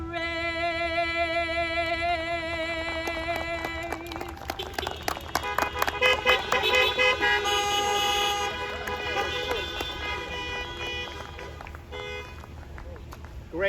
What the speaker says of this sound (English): good job on the honking